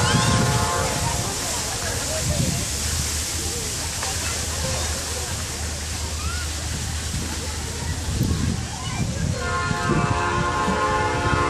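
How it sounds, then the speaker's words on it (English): A train rumbles loudly past nearby in downtown Elgin with a constant roaring rush of wheels and carriages, its horn tones sounding, while people talk faintly underneath. "the train's coming."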